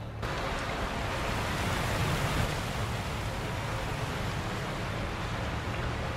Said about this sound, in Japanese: あの滝の音がうるせえからってことじゃねえのかこれ